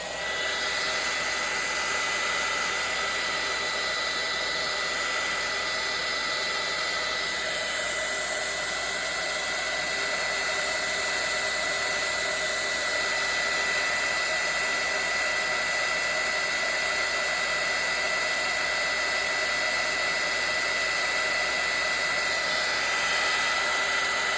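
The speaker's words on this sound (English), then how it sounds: "Let's try to hit it with the heat gun again and see what happens." A heat gun blows continuously on a gelli print, a steady loud whooshing hiss with a fan whine that holds unchanged for over twenty seconds, with no voices.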